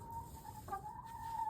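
Backyard chickens cluck softly and steadily, with a brief higher squawk partway through, close by and alone without talk.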